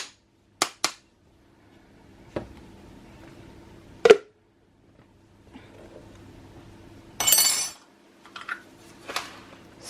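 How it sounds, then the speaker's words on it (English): A metal spoon taps against a bath bomb mould to knock off loose grains, giving a handful of sharp, isolated clinks and knocks spaced irregularly, close and fairly quiet, with a brief rustle in between. "I do like my spoon when I'm making my bath bombs, just to tap all that excess, all those excess grains off"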